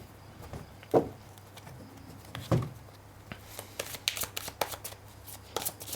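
Tarot cards being shuffled by hand: soft papery riffles and slides with a few sharper slaps, then a denser run of quick shuffling bursts toward the end, close and fairly quiet with no talking.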